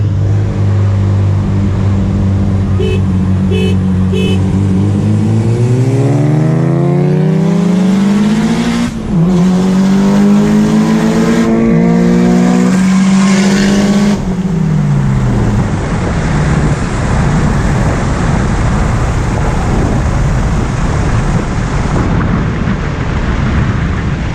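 Mitsubishi Evo at a car meet, engine revving hard through rising gears as the FP Red turbo spools, loud and close, with brief breaks in the climbing pitch before the roar gives way to rough rushing noise.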